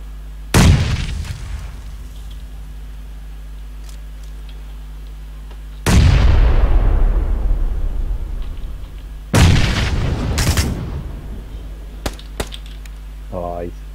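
Sharp, loud explosions and bursts of gunfire from the video game PUBG, three big booming blasts spaced several seconds apart with lingering decay, plus a few smaller pops, over a steady background hum.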